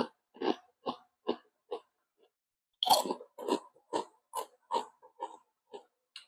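Someone chews a crunchy, heavily powder-coated pulutan snack, close and loud bites and crunches in an irregular rhythm, with a short pause before a burst of denser crunching.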